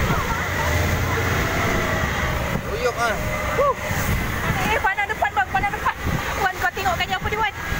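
Big sea waves slosh and crash around a small boat off Pulau Perhentian, rough rushing water and engine rumble throughout, with people talking anxiously over the noise.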